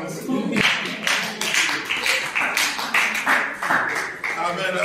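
A church congregation claps in a steady rhythmic beat, with voices acclaiming the Lord over the clapping throughout.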